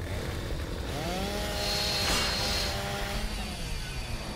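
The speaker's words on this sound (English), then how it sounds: "Let's just chainsaw this giant, taut steel cable." A chainsaw in Gears of War 2 cuts through a taut steel cable, a loud continuous buzzing roar whose pitch rises and holds as it bites, with a grinding metallic sheen at the peak.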